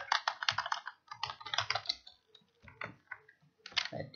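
Quick bursts of close, crisp keystrokes clatter on a computer keyboard during data entry in MS Excel, with short pauses between the runs of typing.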